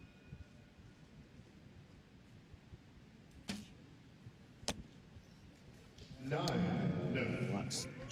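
An archery arrow strikes the target and clatters against another arrow already lodged there, a sharp isolated crack at a match, followed by crowd noise swelling and commentators talking.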